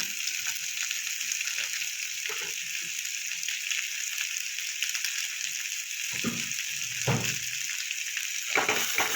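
Potatoes fry in a pan with a steady, soft sizzle, broken now and then by brief scraping and clinking of a utensil.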